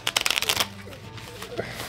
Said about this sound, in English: it's going to be hard to shuffle